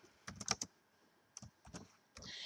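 Quiet keystrokes on a computer keyboard in short uneven bursts, a quick cluster and then a few scattered taps, close but soft, with a brief rush of noise at the end.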